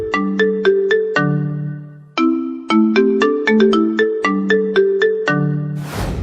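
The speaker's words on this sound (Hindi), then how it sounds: "इसी बीच दिल्ली से आए एक कॉल की घंटी डोटासरा के फोन पर बजती है।" A mobile phone ringtone for an incoming call plays a repeating melodic chime pattern, loud and close, ending in a short burst of noise, with no talking.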